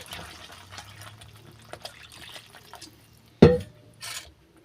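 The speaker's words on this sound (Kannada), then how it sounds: "ಇವಾಗ ನಾವು ಇದಕ್ಕೆ ನೀರು ಎಷ್ಟು ಬೇಕೋ ಅಷ್ಟನ್ನ ಹಾಕ್ಕೊಬೇಕು" Water is poured into a pan of cooking okra gravy, a sudden short splash after quiet stirring noises, followed by a brief second gush.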